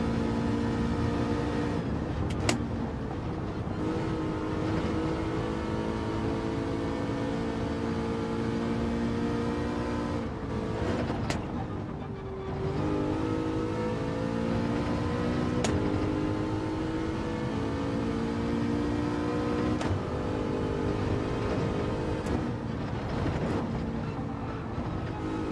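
An Aston Martin Vantage drives in Gran Turismo 7, its engine a continuous tonal drone that climbs and dips through shifts and throttle changes, steady and close with no talk over it.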